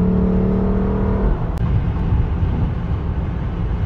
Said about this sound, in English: this is the Injen Cold Air Intake for the IS350